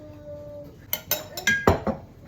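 Clinks and scrapes of utensils against a bowl while mixing a poultry marinade of mustard, soy sauce, barbecue sauce and olive oil, a quick series of sharp knocks building to a louder clatter near the end, with no talking.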